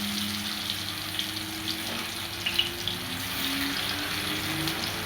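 Paneer pieces frying in hot oil for a potato-paneer curry, giving a steady, moderate hiss and sizzle with faint crackles and no talking.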